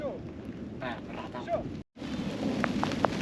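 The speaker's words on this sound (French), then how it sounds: "Bon, il pleut de fou." Heavy rain drumming steadily on a Volvo van during a mountain storm in Morocco, a dense close hiss with a brief dropout midway and a few faint tonal sounds over it.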